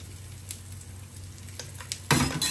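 Tuna pieces cooking down in a pan with garlic and green chillies, giving a low steady sizzle with light stirring scrapes, then a louder burst of frying sizzle near the end.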